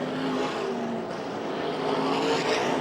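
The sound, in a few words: sprint car engine failing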